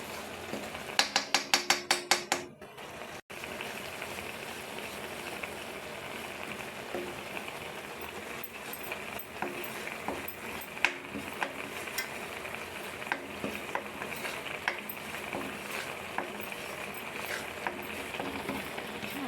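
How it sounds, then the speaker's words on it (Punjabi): Wheat flour roasting in ghee in a pan for carrot barfi, with a few sharp clicks at the start, then a steady soft sizzle and scraping of stirring throughout, close and unvoiced. "ਆਪਾਂ ਆਟੇ ਨੂੰ ਘਿਓ ਵਿੱਚ ਚੰਗੀ ਤਰ੍ਹਾਂ ਭੁੰਨਾਂਗੇ"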